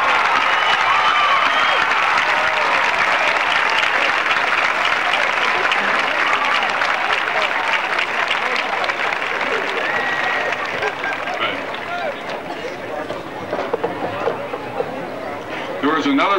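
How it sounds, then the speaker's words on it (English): Graduating high school class of 1985 at their commencement gives sustained applause, a dense crowd of hands clapping steadily for many seconds with chatter and murmuring voices mixed in, easing slightly toward the end. "let's have the class of 85 recognize them with a nice applause"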